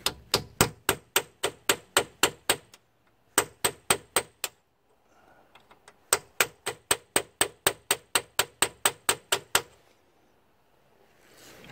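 Steady bursts of sharp metallic taps from a chisel struck against a front wheel bearing, close and distinct, coming in fast rhythmic runs with short pauses between groups; no voices.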